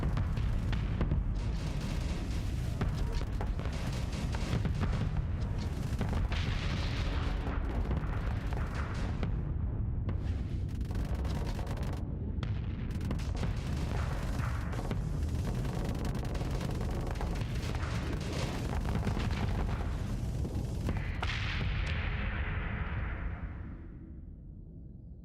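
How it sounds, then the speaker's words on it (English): Missile launches and explosions in a Starsector space battle form a dense, continuous barrage of booms and crackling impacts, loud throughout and fading out at the end. "Missiles away."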